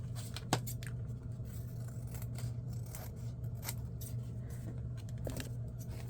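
Scissors snip through cardstock while trimming pages for a handmade no-sew journal, giving a few sharp, close cuts over a steady low background hum.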